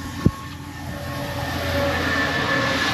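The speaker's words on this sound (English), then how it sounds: "I love trains." Train riding along the rails through a mountain landscape in America, heard from inside as a steady rumbling hum with one brief knock near the start, close and fairly loud with no talk.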